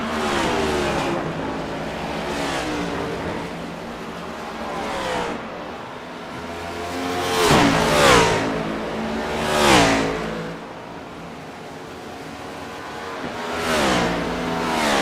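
A race car in a sim racing league event at Watkins Glen International accelerates away from pit road on new tires, its engine revving up loudly through several rising gear pulls over steady track noise.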